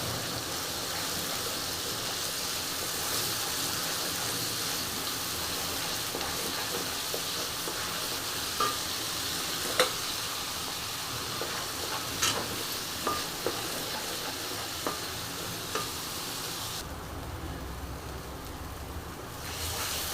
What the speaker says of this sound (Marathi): मीडियम गॅसवरतीच मसाला छान भाजून घ्यायचा आहे